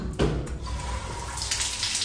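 Water gushes steadily from a tap at a BP gas station, a close, continuous splashing stream with no voices.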